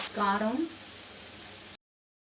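Cauliflower florets frying in a pan make a faint, steady sizzle that runs under a brief voice at the start, then continues alone for about a second before cutting off.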